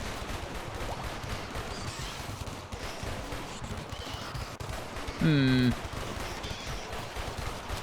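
Turrets firing in RimWorld, a steady stream of rapid gunshots and machine-gun bursts at a tundra colony, continuous and mid-loud, with a short tonal alert sound partway through.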